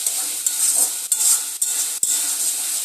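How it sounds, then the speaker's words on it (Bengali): Spices with Kashmiri chilli powder are stirred in a frying pan for a crab dish, a bright steady sizzle cut by a few brief scrapes and a soft knock of the spatula. "দিয়ে আবারও সব মশলাগুলোকে আবারও নাড়াচাড়া দিয়ে দেবো।"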